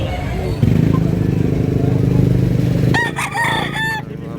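Bulanting Hatch gamecock roosters at a public market crow loudly and close by after a stretch of engine and crowd noise, and someone talks over the scene.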